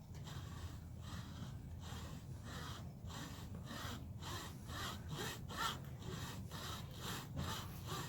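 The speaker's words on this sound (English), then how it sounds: "You don't want the hacksaw to jump up and, you know, cut into the part you're keeping." A hacksaw cuts through a part of an FJ Cruiser steering wheel, with steady back-and-forth strokes rasping close by in an even rhythm and no talk.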